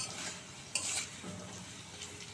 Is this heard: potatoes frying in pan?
yes